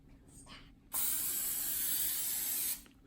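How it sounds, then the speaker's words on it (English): Pam cooking spray hisses steadily onto a cookie sheet in a single loud burst of nearly two seconds, with quiet room sound before and after. "I think we need to spray this with Pam."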